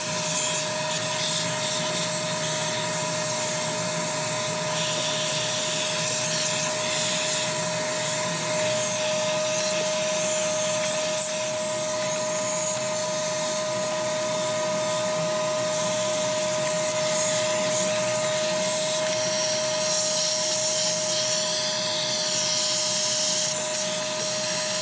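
Vacuum cleaner working the windshield cowl area of a 1997 BMW E36 M3 sedan, a loud continuous whine with a steady tone and rubbing, scraping nozzle sounds throughout.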